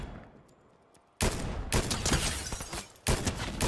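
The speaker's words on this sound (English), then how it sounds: "There's a man shooting over there" Bursts of gunfire in Fortnite, with a quiet lull, then a sudden loud volley from about 1.2 seconds on, sustained rapid shots, a brief dip, and a renewed burst near the end.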